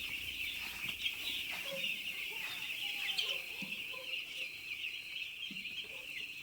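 Four-day-old chicks on a poultry farm keep up a constant, faint high-pitched peeping chorus, with occasional soft thumps and shuffles beneath.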